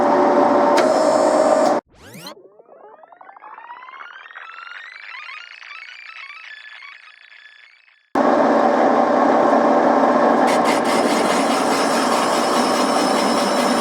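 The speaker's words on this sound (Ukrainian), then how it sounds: "будемо розточувати" Boring machine spindle boring a T-40 tractor front beam: loud steady machining, then a sudden cut to a rising whine as the spindle spins up and holds, then loud machining again.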